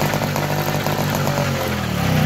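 A Piaggio Ciao moped engine with a carburetion problem idles steadily up close, a continuous buzzing drone with a slight rise in pitch near the end.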